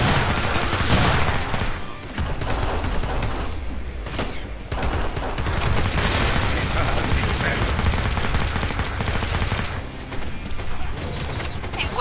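Dense gunfire from the video game Killing Floor 2, with rapid bursts and volleys of shots piling up almost without a break, loud and close for the whole stretch.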